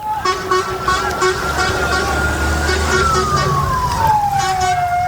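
Ambulance siren at a Gaza attack scene, a steady wailing tone that sweeps downward near the end, heard over continuous street noise and traffic.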